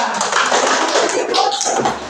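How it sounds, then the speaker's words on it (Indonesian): An elementary science class clapping for a student group: a short, loud burst of dense, close hand claps from many children, filling the whole moment with a voice faintly mixed in. "Tepuk tangan kelompok 2"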